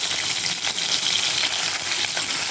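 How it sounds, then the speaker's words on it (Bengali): Shol fish fries lightly in hot oil for a curry, a dense, steady sizzle with faint crackles and pops running throughout, close and loud, with no talking. "খুব একটা বেশি লাল লাল করে ভাজবো না, একটু হালকা করে মাছটাকে ভাজবো।"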